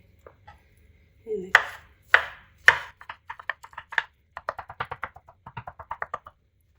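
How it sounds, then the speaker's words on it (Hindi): A knife chops a cooked egg omelette into small pieces on a board, several sharp separate strikes followed by a quicker run of lighter, rhythmic cuts, close and clear with no talk. "अब इनके छोटे छोटे पीस कर लेंगे। अभी यहाँ पर इस तरह छोटे छोटे इनके पीस कर लें।"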